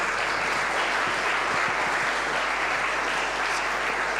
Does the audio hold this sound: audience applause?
yes